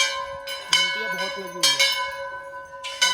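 Temple bells at the Golu Devta shrine in Nainital strike again and again, their bright metallic tones sustaining and overlapping while a voice murmurs quietly underneath.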